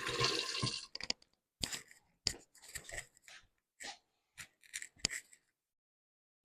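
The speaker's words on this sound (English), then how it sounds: "And rinse those hands." Hands are rinsed under running water in a home kitchen while baking a cake: a brief, loud rush of water opens, then stops as a person talks in short phrases with light handling noises.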